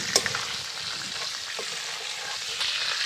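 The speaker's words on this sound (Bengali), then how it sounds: "তো কাঁকড়াগুলো ভাজার পর কীরকম হয়েছে দেখুন।" Sea crabs fry in oil in a pan, a brief, continuous close-range sizzle with a few sharp crackles and a stirring clatter.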